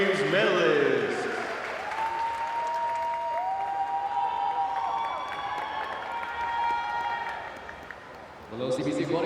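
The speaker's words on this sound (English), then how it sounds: "Another round of applause for the ASEAN Para Games medalists." Spectators at an ASEAN Para Games swimming victory ceremony applaud medalists in a steady, moderately loud wash, with a sustained tonal sound running through it and a burst of noise at the end.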